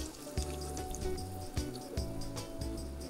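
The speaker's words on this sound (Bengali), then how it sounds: "এবার আমরা দিয়ে দিব আমাদের ব্লেন্ড করে নেওয়া পেঁয়াজের পেস্টের সবটুকু, তার সাথে দেব চিংড়ি মাছ ভেজে নেওয়া তেলের সবটুকু।" Blended onion paste and the leftover prawn-frying oil poured into a pan for a prawn bhuna, giving a quiet, wet splashing pour with soft sizzling pulses, close by and without talk.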